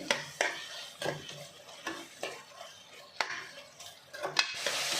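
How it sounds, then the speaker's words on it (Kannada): Tomatoes frying in a pan for methi bath, stirred with a steady series of sharp scraping strokes over a soft sizzle, close and moderately quiet, with no voices. "ಈಗ ನಾನು ಟೊಮೊಟೊ ಸೇರಿಸ್ತಾ ಇದ್ದೀನಿ ಟೊಮೊಟೊ ಎಲ್ಲ ಸ್ವಲ್ಪ ಫ್ರೈ ಆಗಲಿ"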